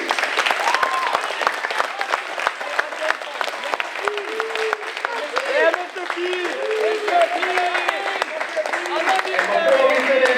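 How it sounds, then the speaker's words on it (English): An audience at a school moving-on ceremony gives a sustained round of applause for educators, dense clapping running the full length with cheers and voices rising through the middle. "give a round of applause to every educator you've ever worked with"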